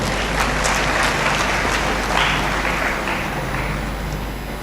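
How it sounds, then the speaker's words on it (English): A large crowd at a graduate studies congregation ceremony gives sustained applause in a big hall, a dense, even wash of clapping that holds steady and slowly fades slightly toward the end. "A resounding round of applause is well deserved to all of you."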